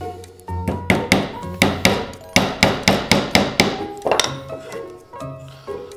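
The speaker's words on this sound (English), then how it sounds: "always make sure that you hammer the nails there straight, so then they won't get crooked" A hammer drives nails into a wooden lamp in a rapid run of a dozen sharp, close thunks, then a few lighter, scattered taps with ringing metallic tones.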